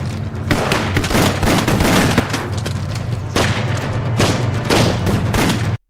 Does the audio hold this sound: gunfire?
yes